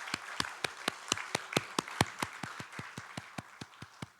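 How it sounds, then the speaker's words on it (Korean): A church congregation at a Sunday service claps in unison, giving about eighteen sharp, evenly spaced claps at a brisk steady beat, loud and close with no talk over it. "성도들에게 감사하는 박수를 하겠습니다."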